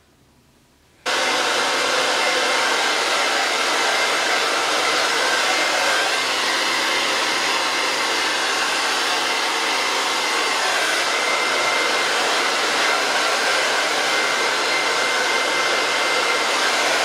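A hair dryer switches on after a second of quiet and blows loudly and steadily at close range while drying hair, with a constant airy whoosh and no talk.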